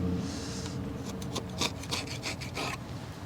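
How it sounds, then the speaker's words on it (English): A putty knife scrapes excess seam compound off a wooden boat hull in a series of short, rough rasping strokes that grow more distinct midway, over a steady low background, with no voices. "going along with a putty knife and just scraping all of the excess seam compound off"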